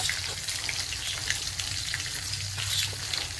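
Chilies and spices sizzle in hot oil, a close, continuous hiss of frying with faint crackles and occasional light stirring noises.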